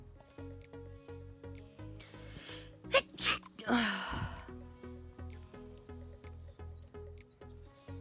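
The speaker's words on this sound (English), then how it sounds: "Only one sneeze." A single sharp sneeze bursts out midway, with a quick breath just before, over a steady low hum and faint background tones.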